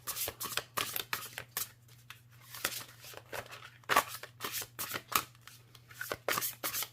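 Cards being shuffled close up, a steady run of crisp riffling bursts with brief pauses between them, no voices.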